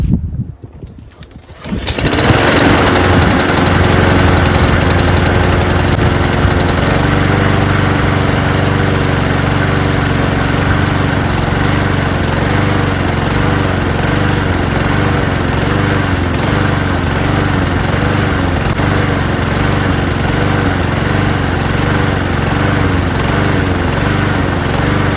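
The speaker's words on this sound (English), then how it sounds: "You think with this condition of this mower that it'll start? It is a Honda." A neglected Troy-Bilt lawn mower with a Honda engine catches after a brief silence and then runs steadily and loudly, a smooth, unbroken engine drone held close up with no talking.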